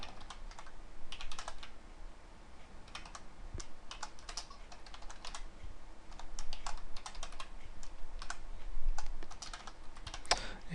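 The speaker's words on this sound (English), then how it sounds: "you see I'm typing rather hurriedly" Rapid, uneven clatter of keys on a computer keyboard, typed hurriedly in bursts with short pauses, close and clear, no talking.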